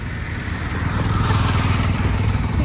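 Motor vehicles and motorcycles pass along a busy road in Badlapur during a Shiv Jayanti celebration, a continuous near engine rumble with rising and falling revs and no talk.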